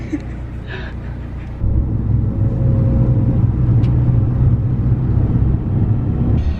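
A large bus's engine rumbles from inside the cabin, a low steady drone that swells louder partway through and holds, under faint chatter.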